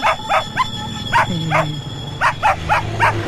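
A puppy yaps in quick repeated high barks, clustered in bursts with brief pauses between them, loud and close.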